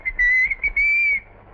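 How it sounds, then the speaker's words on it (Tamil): A person whistles a short, clear tune close to the listener: a few quick high notes, then one longer sustained tone, heard alone without talking. "நீ விசில் அடிக்கிற"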